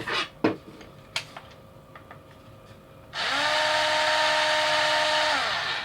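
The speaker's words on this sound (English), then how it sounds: "this one is listed as a 9mm, I think. 9mm hex chamfer bit." An electric drill spins a 9mm hex chamfer bit into plastic, a sustained high-pitched whine that starts abruptly after a few scattered clicks and handling taps, running steady and fairly loud until the end.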